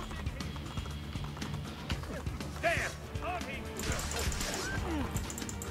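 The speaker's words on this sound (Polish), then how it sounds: "Ale koń przyszedł mi na pomoc." Horse hooves clip-clopping at a run in Assassin's Creed 2, with a whinny partway through, close and fairly loud amid game combat noise and someone talking over it.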